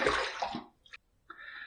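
A safety razor is swished under running water at a sink after a wet shave, giving a short splashing rush, then a faint tap and a thin stream of water.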